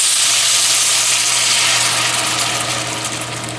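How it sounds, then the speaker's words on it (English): Water poured into a hot pot of leftover brisket pot pie filling, a loud steady sizzling hiss that slowly fades, with a low hum underneath. "Now what we want to do is we want to add a little bit of water."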